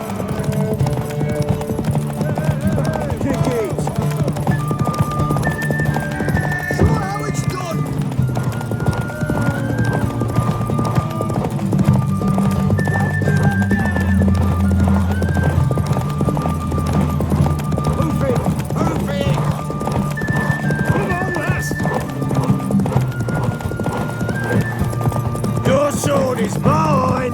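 Horse hooves clip-clopping at a gallop in The Witcher 3, a steady loud rhythm running throughout with whinnies and game music layered over it.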